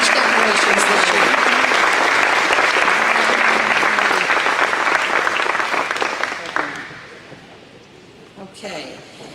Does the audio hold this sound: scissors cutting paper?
no